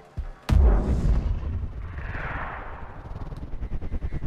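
A mortar round lands with a sudden heavy boom in Sniper: Ghost Warrior Contracts, followed by a long rumbling roar and debris that fades over several seconds, with no talking.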